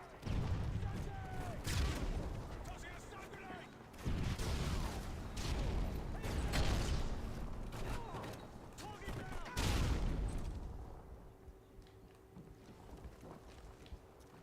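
Call of Duty gunfight on PS3 with a shotgun firing buckshot: several sharp, loud bursts of gunfire in uneven clusters, mixed with rushing wind-like game noise, then fading to a quieter stretch, with a voice talking over it.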